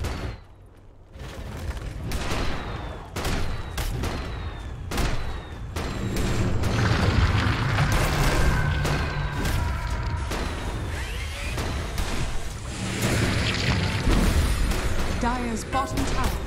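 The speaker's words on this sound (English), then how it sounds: "Dire's bottom tower is under attack." In Dota 2, a tower comes under attack amid a dense barrage of game combat effects: rapid gunfire-like shots, booms and crashes building into a loud, busy battle, with an announcer's voice over the action.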